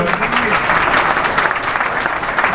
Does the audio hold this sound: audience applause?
yes